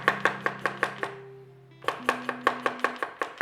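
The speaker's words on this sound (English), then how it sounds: "We start our recipe off by dicing one onion" A knife dices an onion on a cutting board for shepherd's pie, giving a quick, even run of sharp chopping taps with a short pause partway through, close and clear with music playing underneath.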